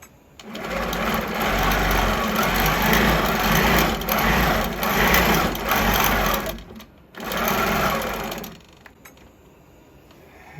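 Sewing machine stitching a sew-off piece: a close, steady high-speed whirring hum with rapid needle clatter, running in several bursts separated by brief pauses, then quieting to faint handling noise.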